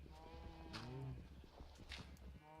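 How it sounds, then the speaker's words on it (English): Minecraft sheep bleat several times in a farm pen, wavering cries close by and fairly quiet, mixed with light game noises. "Time to let out our sheepy friends."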